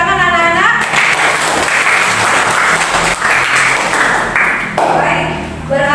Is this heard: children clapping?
yes